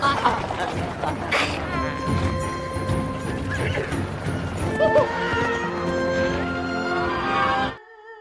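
Several horses neighing loudly with hooves clip-clopping as they are set loose, whinnies rising over a busy rumble of movement before it cuts off abruptly near the end.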